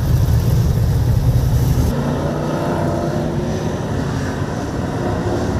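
Race cars circuit racing on a track, a steady loud engine drone with a car pushing hard through a corner, continuous with no voices.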